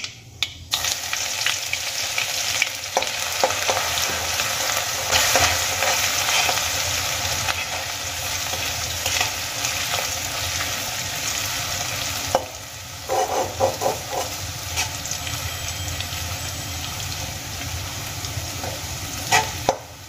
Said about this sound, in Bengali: আদাটা প্রায় ভাজা হয়ে এসেছে